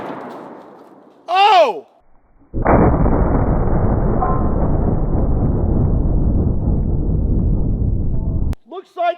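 A 50 BMG rifle fires once with a huge muzzle brake blast, a sudden loud boom that rolls on as a long, dense, echoing rumble. A voice cries out just before the shot, and another exclamation follows as the blast fades.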